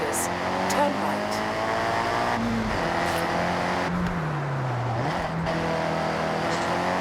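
A car in the Forza Horizon 6 racing game cruises along a Japanese countryside road, its engine droning steadily and shifting pitch as it speeds up, with a navigation voice and someone talking over it.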